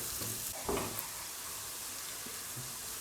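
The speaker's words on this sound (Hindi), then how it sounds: "अभी इसको भी इस प्याज के साथ थोड़ी देर फ्राई करेंगे" Ginger garlic paste frying with chopped onion in a karahi, a soft steady sizzle with a few brief stirring scrapes near the start, close and fairly quiet throughout.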